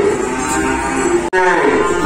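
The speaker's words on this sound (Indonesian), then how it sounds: "mau lihat sapi sapi yang simental mau dipantau di luar nih" Simmental cattle at a livestock dealer's yard give a loud, drawn-out moo. The moo breaks off briefly midway, then resumes strongly close by.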